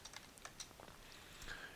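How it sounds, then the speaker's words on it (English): Keys tapped on a computer keyboard while building a web page, a quick run of light, irregular clicks spread across a short stretch, fairly close and quiet, with no talking. "I'm going to start typing"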